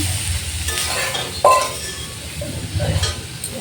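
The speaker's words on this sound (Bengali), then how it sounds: "তো এখন আমি দিয়ে বাঁধাকপিটা ভেজে নিচ্ছি" Cabbage fries in a pan, a soft close sizzle with stirring scrapes and one sharp metallic clink of a utensil on the pan partway through, and no talking.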